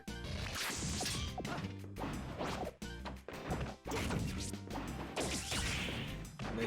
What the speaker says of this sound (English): throwing out these random F smashes and they're actually landing